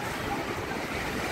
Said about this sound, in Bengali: ফোন দিয়ে বোঝাই যাচ্ছে না যে ওরে এটা কত কিলোমিটার বেগে আসছে হাওয়া